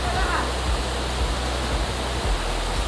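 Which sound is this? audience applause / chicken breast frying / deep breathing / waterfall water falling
waterfall water falling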